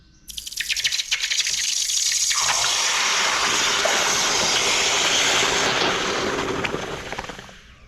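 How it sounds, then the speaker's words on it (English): A loud, sustained hiss and sizzle as hot melted sterling silver is plunged into water in a sterling silver bowl, swelling quickly and then fading away over several seconds. "I think it only makes sense to quench this in a sterling silver bowl of water."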